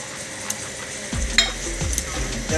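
Spice paste sizzles steadily in a hot pan for a Bengali pointed gourd (potol) curry, with a spoon scraping and stirring through it. The frying is close and continuous, with a few sharp utensil clinks.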